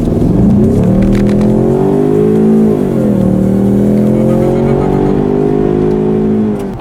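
A 2016 Ford Mustang EcoBoost accelerates hard from a standstill to 60 mph, left in drive, its engine note climbing loud and steady through a rising shift, a brief dip, and another long pull.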